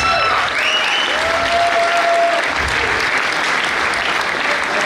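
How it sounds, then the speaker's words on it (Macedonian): Sustained loud applause from an audience at a winter fairy-tale stage show, dense and continuous with a few faint whistles or tones riding over it. "Аплауз."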